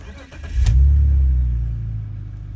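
A BMW E39 530i engine cranks and catches with a loud low rumble, then settles into a steady idle close by.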